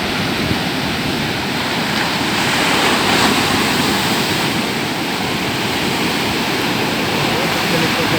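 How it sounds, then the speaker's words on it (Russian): River water meets the sea in a constant broadband rush of waves and surf, loud and close, swelling slightly midway with faint wind noise on the microphone. "Очень красивая волна"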